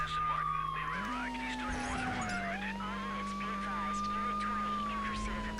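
A police car siren in Need for Speed III wails in a slow rising and falling sweep over a loud, continuous engine roar during a racing pursuit.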